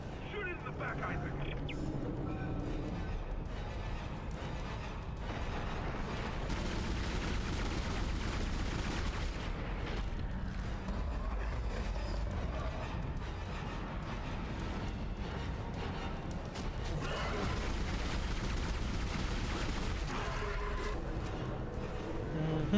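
Continuous heavy weapon fire and explosions in the video game Dead Space, dense and loud throughout, with a voice talking over the combat noise.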